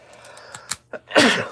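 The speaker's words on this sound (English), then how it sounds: "I think I must have sneezed like 5 or 6 times since we started streaming now." A single close sneeze preceded by a few short breathy intakes, ending in a sharp, bright burst of air.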